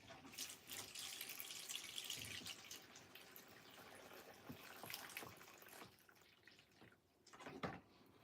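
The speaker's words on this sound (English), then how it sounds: "Let's get this water change on the go. Get all this crud sucked out." Water siphoned out of a fish tank during a water change, a steady faint trickle and gurgle with splashy bursts, close and alone.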